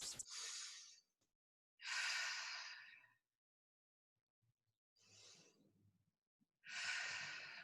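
Four deep breaths, alternating between long inhales and slow, heavy exhales, taken close up during a balance exercise in a fitness class. Silent pauses separate them and no one speaks.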